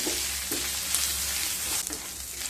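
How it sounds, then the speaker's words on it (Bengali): Asafoetida, ginger paste and turmeric frying in hot oil for lemon rice: a continuous, fairly loud sizzle with light crackles, heard alone. "এবার দিয়ে দেব 1/2 চামচ হিং, 1/2 চামচ আদা বাটা, 1 চামচ হলুদ দিয়ে আবারও মিশিয়ে নেব। মিশিয়ে নিয়ে হালকা ভেজে নেব।"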